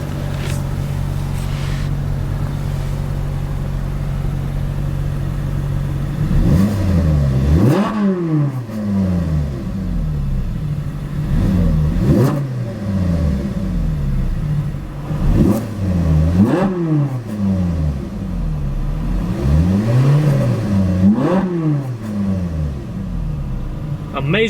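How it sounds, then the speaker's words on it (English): A stationary Ferrari 458 Italia is revved repeatedly, about six sharp blips that climb quickly and fall back between a steady idle, loud and close with a rasping, free-revving exhaust note. "Amazing sound, such a free revving engine."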